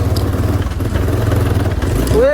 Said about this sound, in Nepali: बाइक माथि कुद्दा बाइकको इन्जिन मात्र अड्किन्छ